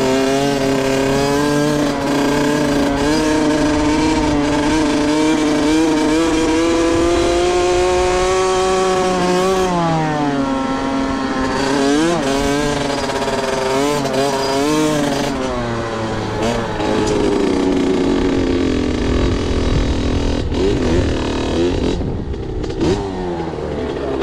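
A Husqvarna CR 65 two-stroke dirt bike engine revs hard and close, a loud buzzing whine that climbs and falls repeatedly in pitch as the throttle is worked, continuous for the whole stretch.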